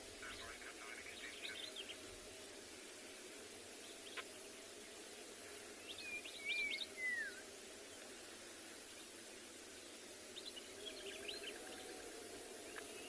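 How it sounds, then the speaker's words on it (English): Birds calling in the background at sunrise on a Tswalu safari: a few faint chirps and one brief whistled call over steady insect hiss, distant and sparse. "All these beautiful bird calls in the background as well."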